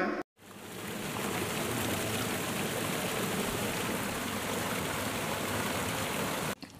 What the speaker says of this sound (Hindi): झ से झरना